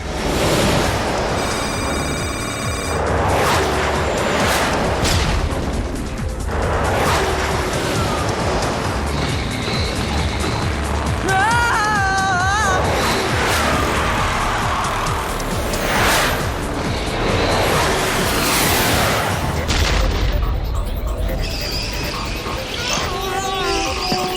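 Guided missiles streak and explode in a Transformers Robots in Disguise cartoon, loud whooshes and repeated blasts layered with beeping alarm tones and rumbling, with brief character talk mixed in.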